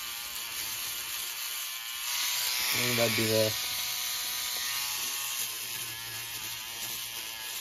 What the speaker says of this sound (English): maybe an old electric toothbrush if your family has one